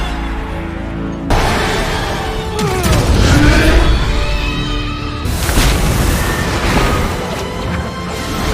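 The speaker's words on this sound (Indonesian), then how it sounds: "meledakkan tubuh sang raja dengan kekuatan Ten Ring-nya" Explosion effect from the Shang-Chi film as the Ten Rings blast apart the king's body: a sudden loud booming roar that swells into a sustained rumbling, crackling blast lasting several seconds with a second surge partway through.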